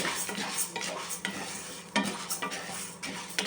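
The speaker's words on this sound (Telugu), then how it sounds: "వేయిస్తున్నాను పావు కిలో మినపగుళ్ళు" A quarter kilo of split black gram roasting in a pan, dry grains rattling and scraping as they are stirred, with a light sizzle and occasional clinks of the utensil against metal, close and steady.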